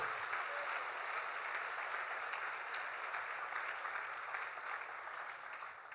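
A church congregation applauding at a pastor-led prayer service: a dense, steady wash of many hands clapping together, sustained and loud throughout, easing slightly toward the end.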